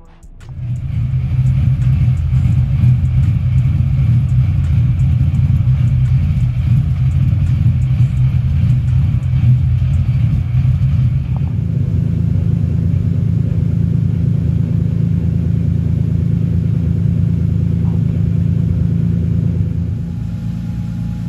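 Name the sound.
Lexus SC300 car driving, engine rumble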